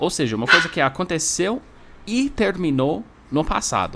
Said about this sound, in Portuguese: Desculpa o barulho das cachorras aqui, elas estão brincando um pouco.